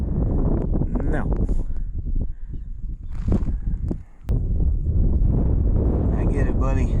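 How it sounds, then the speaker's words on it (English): Strong mountain wind buffets the microphone on a peak, roaring and gusting almost continuously with loud low rumble and only a brief lull. "The wind will die down eventually."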